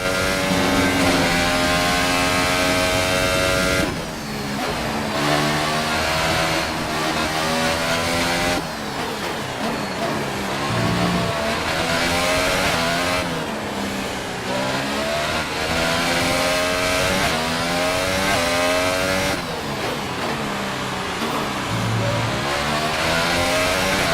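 F1 race car engines roar in the video game F1 2018, a loud continuous high-revving whine that climbs and drops through gear changes, with no speech.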